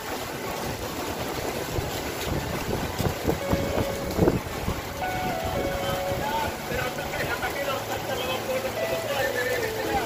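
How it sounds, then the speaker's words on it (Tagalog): Strong typhoon wind roars in a dense, continuous rush during a signal #3 storm in northern Palawan, loud and gusty throughout, with some faint tonal sounds mixed in underneath. "Pagkalakas ng hangin."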